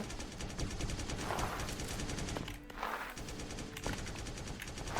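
Rapid automatic gunfire from a shooter video game rattles in dense, continuous bursts, with a brief lull near the middle before the shooting resumes loud and close.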